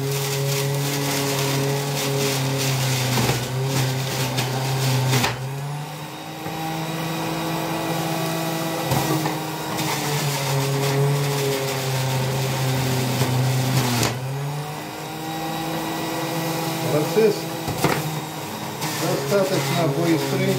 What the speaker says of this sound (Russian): прогоняем ее через соковыжималку, через свою Philips, она старенькая, но работает исправно